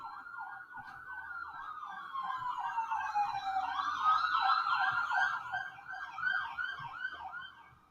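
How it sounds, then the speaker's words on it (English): Emergency vehicle sirens wail outdoors in repeating rising and falling sweeps, several overlapping tones growing louder as they pass, then fading slightly toward the end. "Here comes the sirens."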